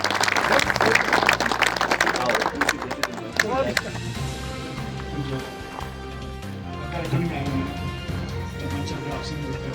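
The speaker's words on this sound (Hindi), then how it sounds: "इनके लिए जोरदार तालियां।" An indoor audience at a Sindhi community honouring ceremony breaks into loud, sustained applause that fades to scattered clapping, with someone speaking over the crowd throughout.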